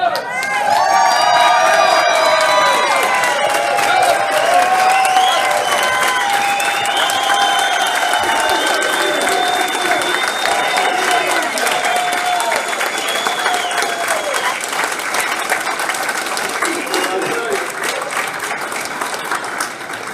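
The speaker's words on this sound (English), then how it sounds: "does this crowd need to stand up and make some more clamoring noise?" A political Q&A crowd bursts into loud, sustained applause mixed with cheering and whoops, filling the hall continuously with scattered shouts and voices in the mix.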